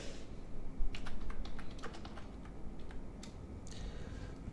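Someone types a search on a computer keyboard, giving a quick, irregular run of light key clicks with brief pauses, faint and close over a steady low background hum.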